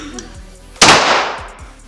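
Single sharp gunshot fired by a woman at a shooting range, loud and close, cracking suddenly after a moment of quiet and trailing off in a short echo.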